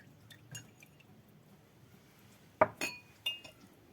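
Cold milk with dissolved starch being added to a pot of milk for muhallabia, heard as a sharp clink of glass or a utensil followed by two more clinks and a faint splash, all close by with no talk.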